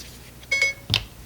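An Apple Siri voice assistant gives a short electronic activation chime, two quick bright tones close together, followed by a soft thump, set against a quiet room.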